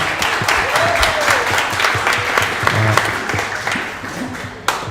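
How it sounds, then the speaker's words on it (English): A studio audience applauds high school football players and their coach on a morning show, a lively, close burst of clapping throughout, with voices and a whoop mixed in. "can you give these gentlemen and coach a round of applause, please?"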